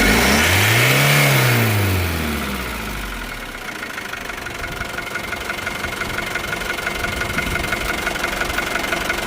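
A 2021 Isuzu D-Max diesel pickup revs sharply, the engine rising and falling once, then settling into a steady close idle that continues to the end.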